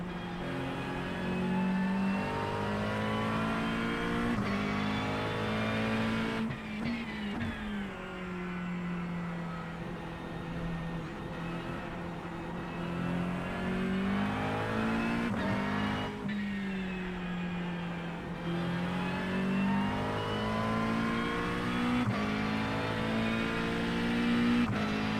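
GT3 race car engines in a racing simulator, a steady droning engine note that rises and falls through gear changes and revs, with other cars running close behind, continuous throughout with no talk.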